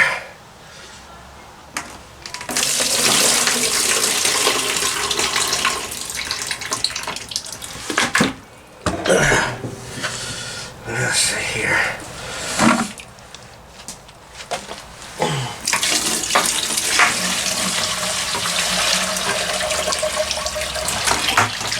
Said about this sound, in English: I'm going to dump this water in here.